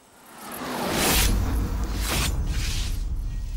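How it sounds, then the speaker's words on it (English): Mowing machine cutting grass in an orchard meadow during the season's first mowing, a broad rushing whoosh that swells in and sweeps past twice, loud and close, with no talk over it. "The season's first mowing has begun."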